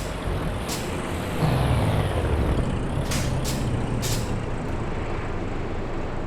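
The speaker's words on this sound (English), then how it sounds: "brakes sound real nice" Simulated air brakes on a Peterbilt 387 truck hauling an oversized load in Euro Truck Simulator 2, sharp hissing bursts of air over a constant loud engine and road drone, several releases in a row and no speech.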